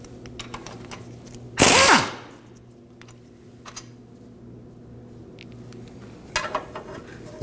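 A 14mm wrench or power tool works a pinch bolt loose on a 2013-2015 Subaru XV Crosstrek front suspension: a short, loud whirring burst near the start, then scattered metallic clicks and taps in a quiet garage.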